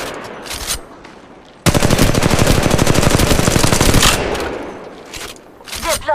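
A long, loud burst of rapid automatic gunfire in the Apex Legends Mobile battle royale, set between quieter stretches with scattered single shots and faint background voices.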